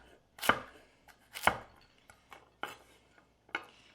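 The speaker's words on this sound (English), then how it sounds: "And now we're just going to chop them in a size that you would like to have in the soup" Carrots chopped into chunks for soup on a cutting board, with five or six sharp, close knife strikes landing at an irregular pace, two of them especially loud.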